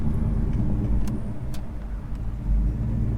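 A stripped-down stock shop truck with no hood and no bed runs steadily, its engine a low continuous rumble that swells slightly near the end as it pulls through a gear change.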